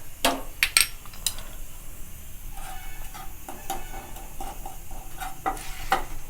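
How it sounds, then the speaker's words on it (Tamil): Dried red chillies and asafoetida powder dry roasting in a pan for peanut podi, with soft crackling stir noises and occasional sharp scrapes and clinks of a spoon against the pan, close and moderately loud, no talk. "இப்போ நான் 4 காஞ்ச மிளகாய் போடுறேன். இதையும் வறுத்துக்கலாம்."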